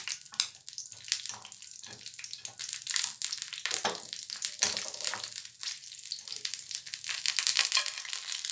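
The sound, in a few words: crushing green chillies and garlic for thecha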